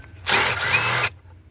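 A power tool spins out an upper intake manifold bolt on a 2006-2010 Hyundai Sonata 3.3L, one loud close burst of about a second of steady whirring, then quiet.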